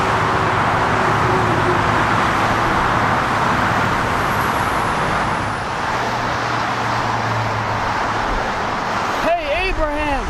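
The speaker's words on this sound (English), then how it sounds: "What's all that noise back there? Like all those cars? That's the highway." Highway traffic behind a house makes a constant dense roar of passing cars that fills the whole stretch, with a voice briefly cutting in near the end.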